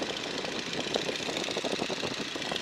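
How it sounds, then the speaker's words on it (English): A biplane engine runs steadily in flight, a dense rattling drone with fast regular pulsing and broad wind noise, close and continuous with no voices. "You can listen to the airplane, you can tell when you're going fast or slow"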